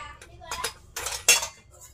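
Pasta with meatballs served onto a plate at home, with several clear clinks and scrapes of cutlery and dishes, close and distinct against a quiet background.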